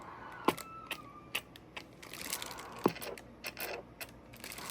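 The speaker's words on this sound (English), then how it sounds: "this thing has a relay in it, I hear clicking" Relay clicking inside a Northpoint NT-3HP radio, a series of small sharp clicks at irregular intervals over a faint background hiss.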